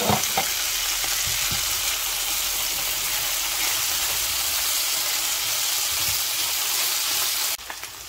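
Ground meat sizzles and fries steadily in a hot pan while making potato and meat pie, a loud continuous crackle with occasional stirring scrapes that cuts off abruptly near the end.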